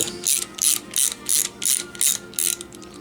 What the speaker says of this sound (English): We're just going to crank down our nylon locking nut here.